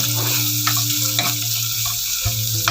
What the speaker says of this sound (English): Now I'm adding about 2 sliced onions. Fry till the onion becomes soft.